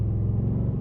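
A Ford Mustang Dark Horse V8 rumbles close by, a deep, heavy, steady engine growl that fills the short moment without any voices.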